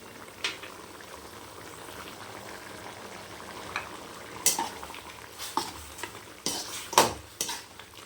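Soft bubbling and simmering from a pot of mutton chukka curry on the stove, with occasional clinks and scrapes of a spoon stirring; no talking.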